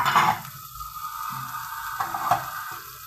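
Peppers, including red kapya peppers, roast in butter in a pan for Turkish menemen, giving a steady close sizzle with brief louder bursts of frying and stirring, no voices.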